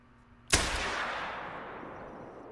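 A single sharp, loud shot from a .243 pistol in a hunting video game, with a long reverberating tail that slowly fades over the next two seconds against a quiet outdoor background.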